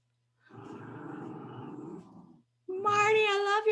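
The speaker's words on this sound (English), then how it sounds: "I love your cat." A pet cat on a home video call gives a low, rough growling yowl, a short pause, then a loud, drawn-out wavering meow, heard close and alone with no talking.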